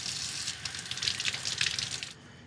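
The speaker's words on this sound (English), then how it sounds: "So rinse them well in cold water" Shrimp rinsed under a cold kitchen tap, a steady close splashing stream of water running for about two seconds before cutting off.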